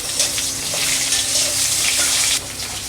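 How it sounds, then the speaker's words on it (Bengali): Potatoes frying in hot oil for a rohu fish curry with bitter gourd, a steady loud hiss and sputter throughout, with no talk. "নামিয়ে এই তেলেই আমি আলুটাও ভেজে নেব।"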